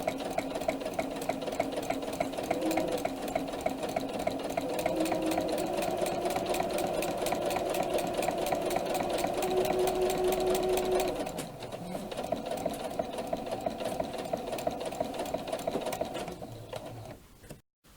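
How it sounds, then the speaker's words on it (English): A domestic sewing machine with a walking foot stitches fabric in a steady, rapid mechanical whir with a fine ticking rhythm, pausing briefly partway through before resuming, close and clear. "it actually feeds itself through the machine because I'm using the walking foot"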